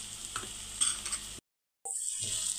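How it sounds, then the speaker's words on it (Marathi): Spices frying in oil for a pea curry, with red chilli powder, onion-garlic masala and coriander powder sizzling steadily as a spoon stirs the pan. The sizzle drops out briefly, then resumes close and continuous. "मसाले एकदा छान आता परतून घेऊयात।"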